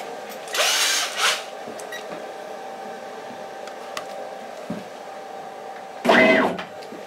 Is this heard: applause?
no